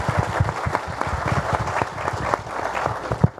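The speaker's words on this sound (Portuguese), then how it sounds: "aplausos ao Marcelo" Applause from a forum audience at the Expointer 2018 agricultural fair in Brazil, steady dense clapping lasting several seconds with a few sharper individual claps standing out near the end.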